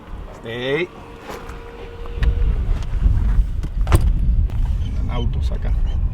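Cars driving along a forest road in winter, heard as a low, broad rumble of passing traffic that swells from faint to steady and stays moderately loud, with a short voice and a dog's whine early on.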